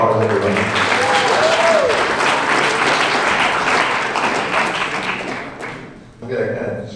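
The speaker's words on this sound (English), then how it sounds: "Give them a big round of applause, everybody" A crowd at a grad night hypnosis show breaks into loud, sustained applause and cheering with some whoops, then the clapping dies away and a voice is heard briefly at the end.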